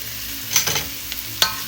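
Garlic seasoned with salt and pepper fries in a pan while two spatulas stir it. A loud, close sizzle carries a few sharp scrape-and-clack strokes.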